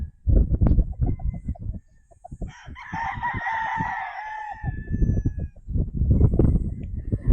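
A gamefowl rooster crows once, loud and close, a long drawn-out call in the middle, with rustling, clucking and other yard noise before and after.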